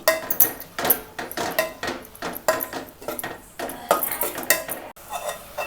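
A metal spoon scrapes and clanks rhythmically against a pan while curry leaves and onions are stirred, repeated loud close strokes roughly twice a second over a faint sizzle, no voices.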